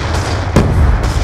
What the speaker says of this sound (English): Concussion out!